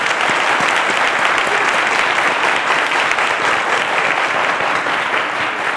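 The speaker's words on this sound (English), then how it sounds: "A round of applause to Ekene." A studio audience at a televised quiz show breaks into steady, dense applause that holds at an even loudness for several seconds, with no voices standing out above it.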